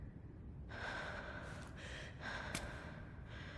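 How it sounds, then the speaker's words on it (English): A climber breathing heavily in a rock climbing simulator video game, several audible breaths and gasps over a steady background hiss, close and moderately loud with no talk. "You can hear her breathing a little bit heavier every now and then."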